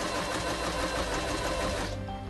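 Kreshay sewing machine stitching a seam, a steady fast mechanical whir with rapid needle clatter that runs continuously, loud and close, then eases off at the very end.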